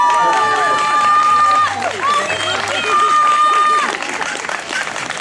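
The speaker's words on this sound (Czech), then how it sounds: "Ten potlesk patří tobě." A crowd claps and cheers at an outdoor gathering by a water tower, steady applause mixed with whistles and excited voices throughout.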